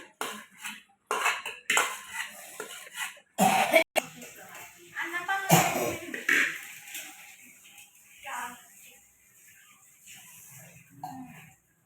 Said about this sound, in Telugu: ఫస్ట్ ఇలా అయితే బాగా మిక్స్ చేసేస్తున్నాము